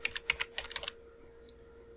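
Keys click in a quick, close run on a computer keyboard as a command is entered at an Ubuntu terminal prompt, then stop, leaving a hum and one last isolated keystroke.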